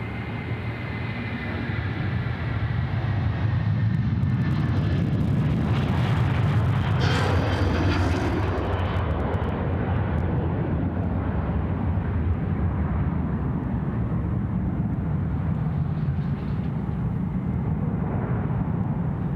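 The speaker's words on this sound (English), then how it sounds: "The A330-300 to Kuala Lumpur rolling 34 left" A Malaysia Airlines Airbus A330-300 takes off from runway 34 left at Sydney Airport, bound for Kuala Lumpur, with a loud sustained jet roar and a brief rising whine partway through, continuing as a steady rumble.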